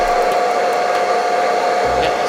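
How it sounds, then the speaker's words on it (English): A hairdryer blows steadily and close on a VW Scirocco badge, a constant whooshing hum with a faint tonal whine running unbroken throughout, with no voices. "let's get the hairdryer on"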